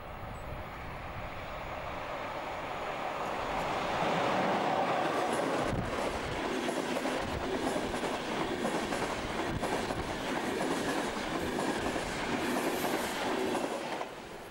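A Eurocity passenger train hauled by a German class 181.2 multi-system electric locomotive rolls past along the Moselle, its steady rumble swelling as it nears, with rhythmic clickety-clack of wheels over rail joints.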